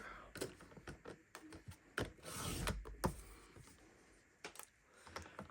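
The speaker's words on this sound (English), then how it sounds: "So I'm going to just cut off this end and make it cleaner." A paper trimmer slices a worn cardstock scrap in a quiet room, giving a series of dry clicks and sliding cuts at an irregular pace, close by and moderately loud.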